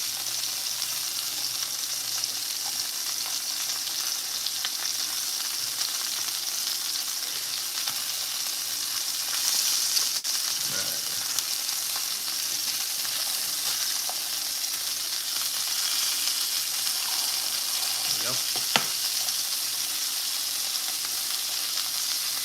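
Burger patties topped with cheese slices frying in a pan, a steady close sizzle that runs throughout with a few faint stirring or scraping touches and no talking.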